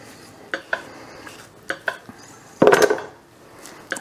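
A knife slices three ripe avocados in half on a kitchen surface, giving a few light knocks and taps followed by a louder, brief scraping crunch, close and clear with no talking.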